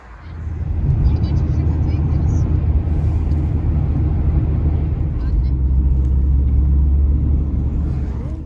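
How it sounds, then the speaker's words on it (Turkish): A car engine runs with a deep, steady rumble close by, holding loud and continuous for several seconds as people talk over it. "bak bak arabayı nasıl çalıştırmış gördün mü?"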